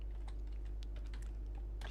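Keys clack on a computer keyboard as a Vim command is typed in a Kali Linux terminal, a few quiet scattered strokes over a steady low hum, with no talking.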